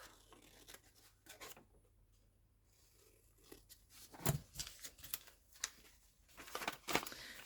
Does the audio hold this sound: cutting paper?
yes